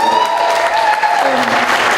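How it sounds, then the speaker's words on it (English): Applause fills the room for a community panel event on homelessness, a brief, loud, continuous wash of clapping with voices audible through it. "so a nice round of applause for her"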